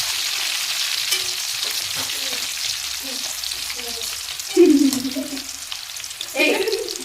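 Chips sizzle in hot oil with salted water added, a steady frying hiss broken by brief bursts of bubbling and stirring clatter, close and fairly loud with no talking.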